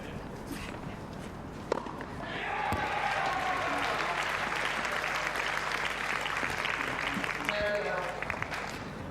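Tennis crowd at the Hobart International 2014 women's match applauding and cheering, a dense wash of clapping that builds after a thump and holds steady for several seconds, with talk mixed in.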